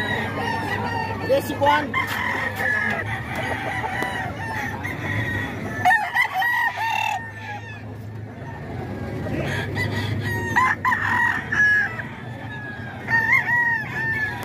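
Gamefowl roosters brought to Bocaue crowing repeatedly near and far, mixed with clucking over a steady background drone, as someone speaks briefly.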